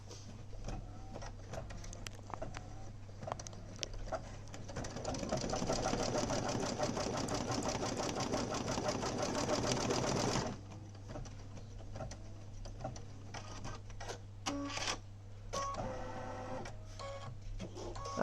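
Computerized embroidery machine stitching with a rapid mechanical chatter that rises to a dense, louder run in the middle, then drops back to lighter ticking and clicking, close and continuous.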